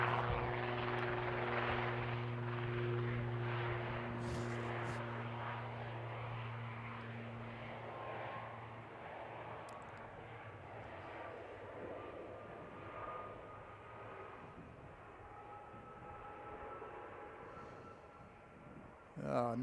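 Light aircraft engine droning during takeoff at an aero club, a steady loud buzzing hum with strong tonal harmonics that slowly shift in pitch and fade a little as the plane moves off, heard throughout with no clear speech.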